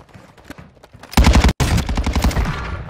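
A shotgun fired in Warzone 2: faint scattered shots, then from about the middle a loud sustained volley of rapid blasts, broken by one brief gap, heard close and without talk.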